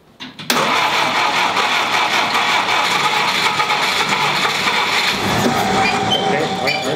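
A 1946 Willys CJ2A Jeep, run for the first time in five years, cranks briefly and then catches, its engine roaring steadily and loudly close by for several seconds.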